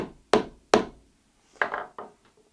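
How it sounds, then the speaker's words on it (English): A soft hammer taps a rivet cap on a handmade leather guitar strap, giving two sharp close knocks, then a pause and two or three lighter taps, each dying away quickly. "with a soft hammer tap it."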